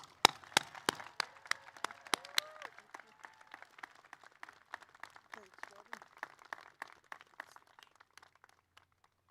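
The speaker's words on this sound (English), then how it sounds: "Please give her a round of applause for all that she has done for CCA." A commencement audience at the Community College of Aurora applauds. Dense clapping starts strong and slowly thins out to scattered claps, with some voices in the crowd.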